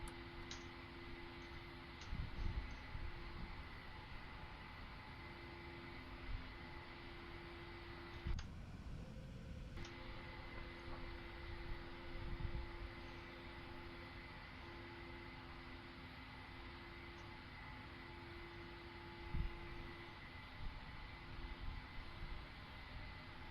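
Airliner jet engines hold a steady, even drone through the climb after takeoff in a flight simulator, a continuous whine with faint ticking and a brief dip in the noise partway through, no voices.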